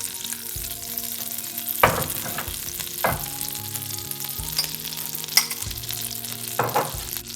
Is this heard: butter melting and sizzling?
yes